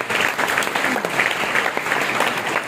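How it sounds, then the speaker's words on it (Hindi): A seated audience at a university motivational talk claps together in sustained, dense applause, loud and steady throughout without a break. "तो मैं चाहूँगा सभी प्रतिभागियों से कि इन दोनों संस्थाओं के लिए जोरदार तालियां बजाएंगे तो।"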